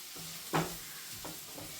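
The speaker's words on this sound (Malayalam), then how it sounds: "അപ്പൊ അങ്ങനെ ഇനി ഒന്ന് നന്നായിട്ട് ഇളക്കി എടുക്കണം" A salted egg and tapioca mixture is stirred in a pan, with a few close scraping strokes over a steady sizzle and no voices.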